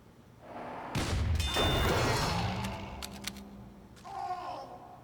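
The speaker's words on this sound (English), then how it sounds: "This is known as a double donk." Demoman's grenade in Team Fortress 2 striking directly and detonating almost at once, a loud thudding impact that runs straight into a heavy explosion roar, then fades before a brief second burst near the end.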